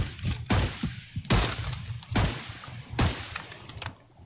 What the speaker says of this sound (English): He's shooting me, but he cannot hit me